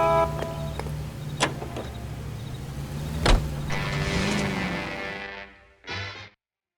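Car driving in L.A. Noire: a steady engine hum with a couple of sharp clicks or thumps, then a brighter surge of motor noise before a short burst and sudden silence.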